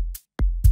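A loose layered clap sample from an electronic drum kit, heard as three punchy hits, the last two close together, dry and loud with no other sound.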